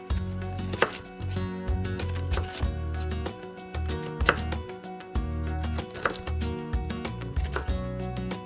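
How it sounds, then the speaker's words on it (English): A knife chops duck meat into bite-sized pieces on a board, with steady, rhythmic close-up thuds that keep going with brief gaps. "just cut them in nice bite-sized pieces just like before"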